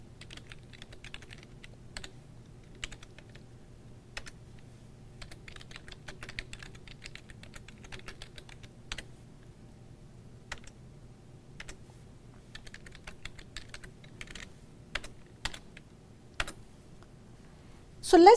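Keys on a computer keyboard click in scattered, irregular taps while C++ code is entered, light and close over a quiet low hum, with a louder clatter at the very end.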